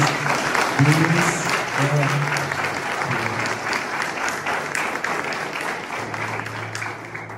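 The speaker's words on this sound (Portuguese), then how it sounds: "Você pode dar uma salva de palmas a Jesus?" A church congregation applauds steadily during a Mother's Day service, with a voice speaking and singing over the clapping throughout.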